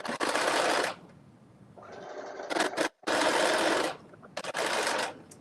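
A sewing machine stitches a sleeve side seam in two loud, sustained bursts of rapid mechanical whirring, separated by a quieter hum and brief clicks, close up and without talk.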